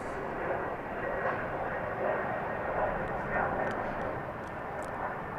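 American Airlines airliner on a runway at DFW Airport, a steady broad engine roar heard from a distance, fairly faint and unchanging, with a voice speaking over it.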